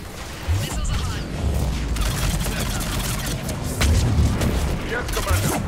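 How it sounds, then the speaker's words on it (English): Missile launches and explosions from Mass Effect 3 combat during the Priority: Thessia mission, a dense, continuous barrage of booms and blasts with repeated heavy low thumps throughout, loud and close. "Missiles away!"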